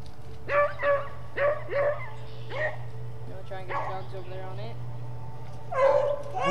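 Hunting dogs in a wet, cold swamp bark in several short yelping bursts, some near and some farther off, with a steady low hum underneath and gaps of quieter whimpering between.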